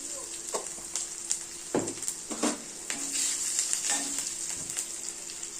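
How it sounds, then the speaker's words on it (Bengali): Oil crackles and sizzles steadily while whole cumin and slit green chillies fry, with a few clanks of a utensil against the pan. "এবার দিয়ে দেবো গোটা জিরে"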